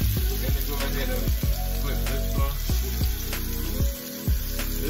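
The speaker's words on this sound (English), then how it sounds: "Look at that nice sear that we got on our fish" Salmon pan-searing in a hot pan gives a steady, close sizzle and crackle throughout, with tonal background music running underneath.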